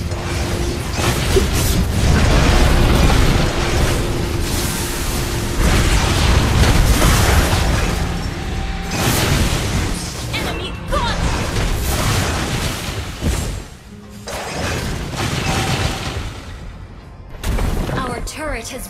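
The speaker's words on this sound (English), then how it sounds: "Our turret has been destroyed." Game sound effects from the mobile battle game Mobile Legends: Bang Bang as a turret is destroyed, with booming, bursting crashes layered over continuous clashing battle noise and a recurring announcer voice.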